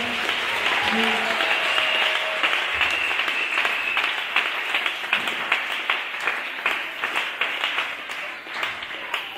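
A church congregation applauds, starting as a dense wash of clapping and settling into loud, regular rhythmic claps in unison, close and full.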